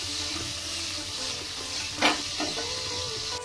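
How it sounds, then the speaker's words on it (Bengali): Snakehead fish pieces frying in hot mustard oil give a steady, close sizzle with a couple of brief louder spits near the end, and no one speaks. "তেল গরম হয়ে গেলে মাছগুলো ভাজার জন্য দিয়ে দেব"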